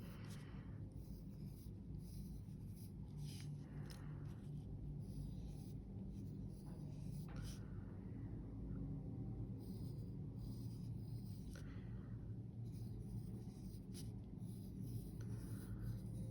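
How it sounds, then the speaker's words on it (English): A pencil sketches lettering on paper in soft, steady scratchy strokes, faint and close, over a constant low background hum with no talking. "I'm just gonna sketch it out in pencil"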